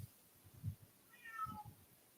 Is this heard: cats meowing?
yes